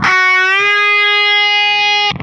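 Distorted electric guitar plays a plain string bend: one sustained, buzzing note that rises slightly in pitch early on, then holds steady for about two seconds before cutting off, loud and alone.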